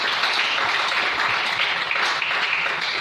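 A church congregation applauding and cheering to acclaim the Lord, a dense steady wash of many hands clapping at close range throughout.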